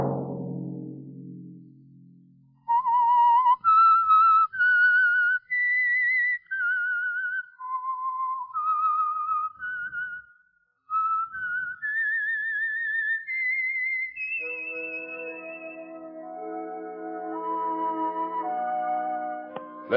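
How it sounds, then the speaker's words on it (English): A melodic whistle, the theme of The Whistler radio show, rings out alone: a clear, sustained tune of stepping and gliding notes lasting many seconds, followed by orchestral music. "Let that whistle be your signal for the Signal Oil program"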